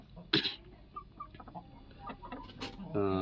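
On a poultry farm, a rooster of about three kilograms gives short, close clucks and a few sharp calls amid faint background movement.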